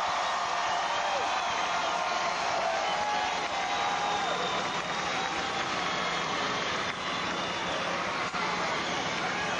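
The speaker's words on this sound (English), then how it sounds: "Let's give them another cheer." Loud, continuous cheering from a huge outdoor crowd at the Chicago Bulls' second championship celebration in Grant Park, a steady roar of voices with engine-like rumble underneath, lasting throughout.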